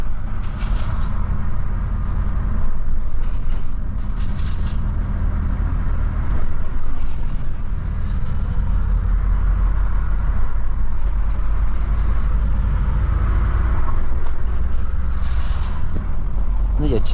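Volvo FH 540 truck driving on a road, a steady loud low engine rumble and road drone filling the whole stretch, with someone talking intermittently over it.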